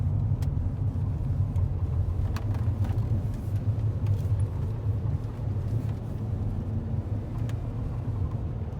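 Steady low engine rumble and road noise from a two-owner truck on new tires, heard from inside the cab while driving, with a constant drone throughout and a few light clicks and rattles.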